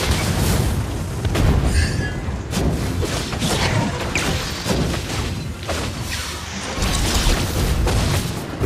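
A fiery blast skill explodes in the Mobile Legends Bang Bang mobile game, heard as dense, loud, continuous booming crashes and bursts of game effects with no speech.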